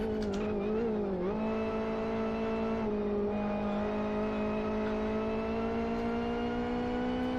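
Race car engine in the Live for Speed racing game, holding a steady high drone that climbs slowly in pitch as it accelerates down a straight, loud and continuous.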